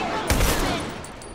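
A single sharp gunshot blasts out in a Factions multiplayer shooter match, a broadband crack with a low thump that fades into a lingering tail over steady game ambience.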